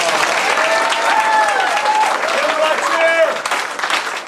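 Enthusiastic applause for students at a martial arts belt ceremony in a family training center, close and loud clapping with scattered cheers and voices mixed in, tapering off at the end.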